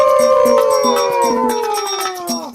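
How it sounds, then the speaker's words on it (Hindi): A pack of foxes howls together in long, close, loud wavering calls that slide slowly downward, overlapping one another, with short sharp yips breaking in. "फिर उन लोमड़ियों के झुंड ने नए राजा का अभिवादन करने के लिए एक साथ आवाज लगाना शुरू किया।"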